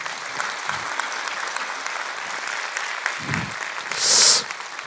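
Audience applause in a church, a steady sustained wash of clapping heard from a distance, with a brief louder swell near the end.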